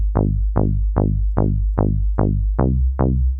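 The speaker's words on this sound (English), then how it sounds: "the bass is made in Serum, and it sounds like this on its own" Synthesized trance bass made in Serum and played on its own: eight punchy offbeat notes with a short decaying pluck, loud and steady with no talking.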